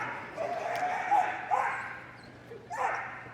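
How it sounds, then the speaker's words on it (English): An agility dog at Crufts barks and yips vocally in a few short bursts while running the championship course, heard under an arena commentator's ongoing talk. "Very vocal dog, as you can hear."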